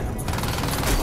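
A submachine gun in Crysis 2 rattles off a short burst of rapid shots, loud and close, with game noise underneath.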